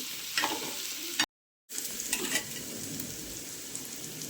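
Onions frying in about two to two and a half ladles of oil for egg bhurji, a steady low sizzle punctuated by spatula stirs and scrapes, with a short dropout partway through and no talk.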